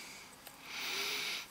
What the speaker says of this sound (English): So just have a quick sniff.